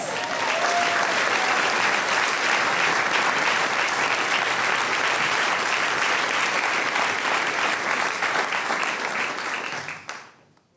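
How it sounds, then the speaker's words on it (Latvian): Loud, sustained applause from an audience welcoming a speaker on stage at a FuckUp Nights event in Riga, a dense steady wall of clapping lasting about ten seconds before cutting off abruptly. "Ar skaļiem aplausiem sagaidām Jānis Uplejs!"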